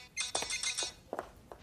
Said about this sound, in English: Yep, I replaced it with Nelly Furtado's Say It Right.